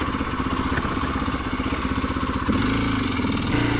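A dirt bike engine struggling to hold idle runs roughly and unevenly, close by, its low putter stumbling before the pitch shifts slightly higher.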